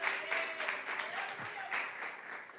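Congregation applauding in a church service, a dense continuous patter of many hands filling the space, with a faint voice and some room noise mixed underneath throughout.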